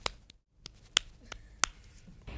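Finger snapping from an audience at a poetry gig, several sharp, crisp snaps scattered irregularly over a quiet room.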